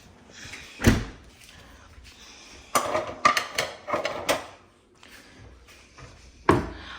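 Dishes and utensils such as a cutting board, knives and scissors are loaded into a dishwasher, with sharp door and rack knocks at intervals amid quieter rattling and clatter, close by, with no speech.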